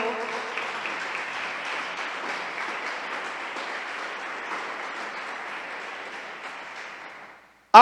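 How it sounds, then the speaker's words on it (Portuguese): A church congregation applauding during a sermon, steady clapping of many hands that holds for several seconds then fades out abruptly, followed by a short loud burst at the very end. "Aplaude ao Senhor"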